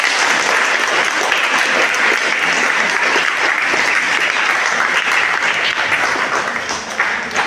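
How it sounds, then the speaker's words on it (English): Sustained applause from a room full of workshop attendees, dense and even clapping that holds for several seconds before easing slightly at the end. "A big round of applause for me."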